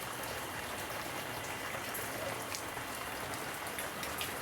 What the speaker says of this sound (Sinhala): වැස්ස වහිනවා වගේ තමයි දැන් ඔය පේනවනේ. මුළු වහලෙම තෙත් වෙලා වැටෙනවා.